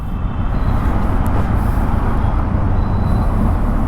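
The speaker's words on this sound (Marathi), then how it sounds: "कारण ट्रॅफिक इथे भरपूर होतं" Dense road traffic on a busy street makes a loud, steady low rumble of passing vehicles throughout, with no clear voices.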